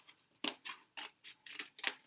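Scissors snip through paper while a viewfinder is cut out, with about six quick, close cuts in a steady rhythm.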